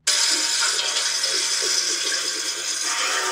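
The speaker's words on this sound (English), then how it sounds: "That is the sound of a tap water." Running tap water hisses in a steady rush that starts abruptly and holds at a constant level throughout.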